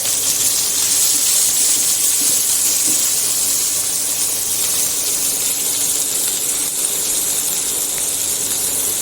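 Small onions (shallots) sizzle in hot oil with mustard seeds, making a loud, steady, dense hiss that runs unbroken for the whole stretch, with faint crackles underneath.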